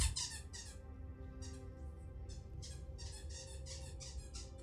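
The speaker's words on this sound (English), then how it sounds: "The dog has decided she wants to play with a squeaky toy." A dog playing with a squeaky toy indoors, rapid high squeaks repeating in quick uneven bursts throughout, fairly faint and close, over a low steady hum with no talking.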